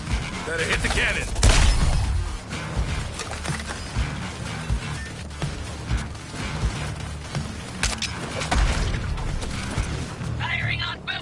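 Cannon fire in the Suicide Squad video game arrives as a dense barrage of booms, mechanical clanks and creaks amid constant loud game noise, with heavy low-end blasts near the start.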